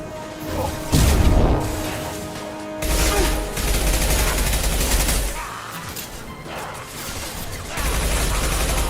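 Loud continuous gunfire from an impact shot in the Mass Effect 2 game, dense bursts and crashing blasts that surge and ease across the span with no pauses.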